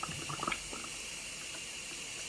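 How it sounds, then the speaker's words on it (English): Hot water rushes and gurgles through CPAP tubing during cleaning, a steady close hiss of flowing liquid with a few brief bubbling splashes at the start, no talking. "if you can get as hot water as possible into these tubes and everything, just really blast it through here"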